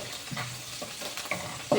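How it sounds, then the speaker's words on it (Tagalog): Garlic sautéed in a pan, with a steady frying sizzle broken by a few scraping stirs, close by and with no voices. "So, igisa ko na siya."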